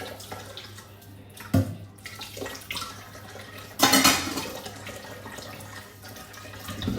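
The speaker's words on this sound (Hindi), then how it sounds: "तो बस मैं ये बर्तन धो रही हूँ।" A kadhai (wok) being washed under a running tap, with water streaming steadily and a couple of sharp metallic knocks and scrapes of the pan standing out over the flow, fairly close.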